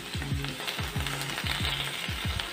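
Potatoes sizzle steadily in well-heated oil in a non-stick pan for a Spanish omelette, a constant crackling hiss broken by a rhythmic series of scraping, clicking stirs.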